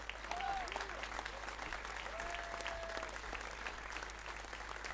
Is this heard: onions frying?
no